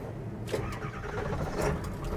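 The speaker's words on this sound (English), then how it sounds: "and turn the key, it starts right up" The 7.3L Powerstroke diesel engine of a 2001 Ford Excursion Limited cranks and catches in a brief start, then settles into a low rumbling idle, heard fairly faint and alone.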